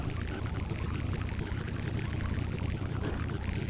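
Water being made in the video game Sandustry, a steady, dense pouring and splashing wash that runs without a break, fairly quiet and with no talk over it.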